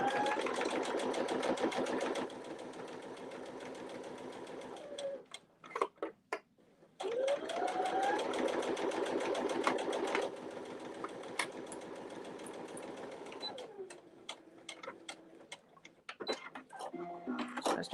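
A sewing machine runs steadily while stitching a sling seam, its fast mechanical whir pausing briefly midway with a few clicks before resuming and slowing to intermittent taps at the end.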